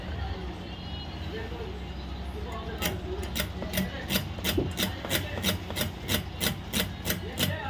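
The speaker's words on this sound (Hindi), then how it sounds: "तो हम इसको थोड़ा सा रगड़ रगड़ के साफ़ कर लेते हैं।" Rubbing and scraping while cleaning a wireless microphone part, starting faint and then becoming a steady series of about a dozen evenly spaced rasping strokes at close range, with a constant low hum underneath.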